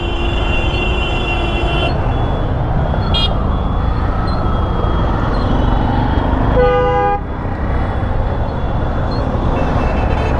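Horns honk in heavy traffic on Hanif Flyover in Dhaka, heard from a stalled motorbike: a long horn blast, then a short toot and a later brassy multi-tone horn over constant loud engine rumble.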